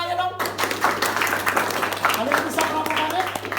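An audience claps in a dense, steady wash during a beat-counting group activity, mixed with overlapping voices and some faint tonal sounds throughout.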